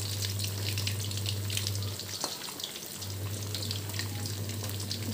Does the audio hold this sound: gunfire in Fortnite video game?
no